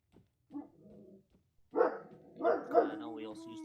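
A puppy gives a few short yips and whimpering barks in a room, starting faint and then louder, with people talking nearby.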